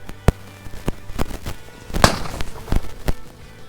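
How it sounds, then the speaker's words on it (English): Shotgun blasts from a 28 gauge during a mallard duck hunt, several sharp reports spread unevenly over a few seconds, with the loudest near the middle, heard outdoors over low background rumble. "Who shot that?"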